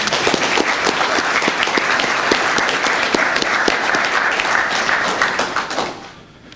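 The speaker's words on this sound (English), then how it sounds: "I'd just like to give them a round of applause right now" An audience at a PBL/AITP honors reception claps for students, a dense and steady round of applause that holds evenly for several seconds before tapering off near the end.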